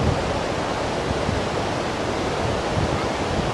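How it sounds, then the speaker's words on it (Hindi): Fast-flowing river water rushes below Manikaran Gurudwara in a loud, dense, unbroken roar that holds steady throughout, with no voices. "कितना तेज बहाव है पानी का"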